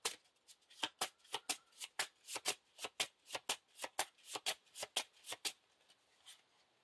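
A deck of playing cards for The Lord of the Rings card game is riffle-shuffled and bridged up close, producing a quick, rhythmic series of sharp crisp flutters that fade out at the end.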